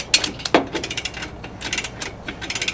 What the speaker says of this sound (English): You're gonna need a 9/16 wrench, actually two 9/16 wrenches, or even an adjustable wrench.